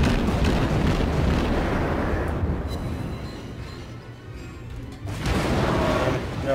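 Heavy naval gunfire from warships in the World of Warships game: loud, dense booming blasts roll through the first two seconds, ease into a quieter rumble, then a fresh barrage erupts near the end.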